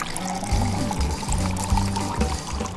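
Water poured into flour for homemade pasta dough, a steady close pour with a low gurgling character, broken into a few short bursts over under three seconds, with no talking.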